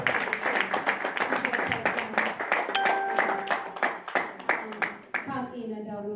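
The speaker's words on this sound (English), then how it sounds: "Give him a round of applause." Scattered clapping from a small gathering welcomes Professor Chris, individual sharp hand claps in an uneven rhythm that thins out, with people talking throughout.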